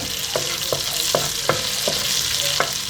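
Cumin seeds sizzle in melted butter in a pan for a butter chicken and pulao meal. A steady, close hiss runs throughout, broken by regular light pops or taps every half second or so.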